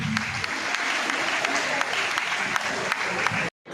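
An audience at a girls' student awareness programme in Chennai applauds as a special prize is presented to a local party official. The clapping is dense and steady for about three and a half seconds, then cuts off abruptly.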